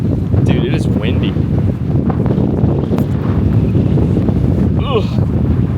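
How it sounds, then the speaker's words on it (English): Strong wind buffets the microphone on a desert sand dune in Tunisia, a loud, constant roar that masks everything else, with a person speaking briefly under it. "it is windy"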